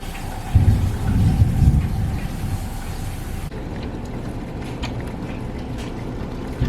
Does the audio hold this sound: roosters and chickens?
no